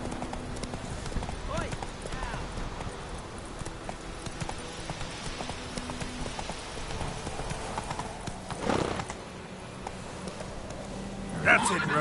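Horse galloping in The Witcher 3, hooves clip-clopping steadily throughout amid game ambience and background music, with a brief louder swell of sound near the end.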